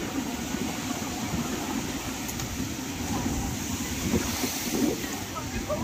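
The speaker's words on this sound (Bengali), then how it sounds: "ঢেউ দেখো বন্ধুরা" Ocean waves wash and break on the shore at Old Digha beach under steady wind noise, a continuous rushing surf with no voices.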